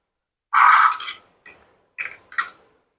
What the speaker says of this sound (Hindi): इसके ऊपर हम ये इसका ढक्कन लगाएंगे